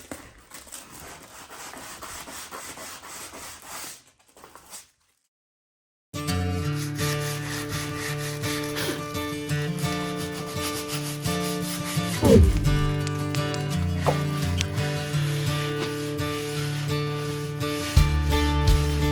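Steady rubbing and scraping of sanding on wooden trim, continuous and close, after a brief quiet gap, with faint background hum underneath.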